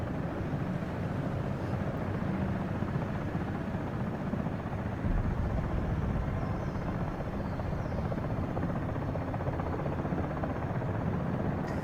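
Comanche helicopter in a VR flight game, its rotor drone a loud continuous low thrum held steady without break, with no voices.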